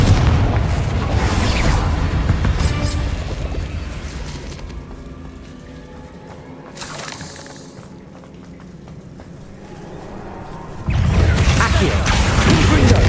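Bombarda and Confringo spell explosions in Hogwarts Legacy: loud booming blasts at the start and again near the end, with a quieter rumbling stretch and scattered crashes between them.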